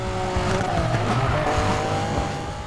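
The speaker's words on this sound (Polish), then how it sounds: "To auto tak łatwo się ślizga" A car in the Need for Speed Payback racing game skids with a sustained, loud tire squeal over a roaring engine, the screech lasting throughout without pause.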